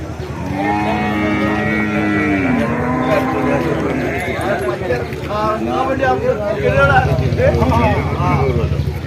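Buffalo calves mooing at the busy Kollannur market on Vishu day, long drawn-out lowing calls close by, overlapping with chatter and crowd noise throughout.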